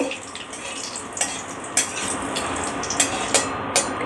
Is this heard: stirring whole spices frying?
yes